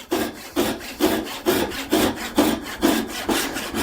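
A hand saw with a depth stop cuts wood for a half lap joint, about eight even push strokes of close, rhythmic rasping, each with a soft thump at the turn.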